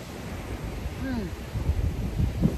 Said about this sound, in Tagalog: Mahangin. Sarap ng hangin. Parang matumba pa yata. Naririnig niyo yung dagat?